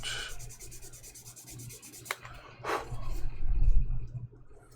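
A tool or blade is rubbed on an 8000 grit abrasive in a few short scraping strokes, fairly faint and close, alone with no talking.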